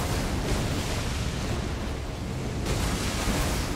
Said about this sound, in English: See, that was the breath attack.